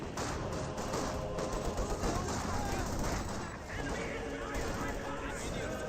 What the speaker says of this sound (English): the machine gun Gewehr is getting some good suppression there as some of these models are pushed forward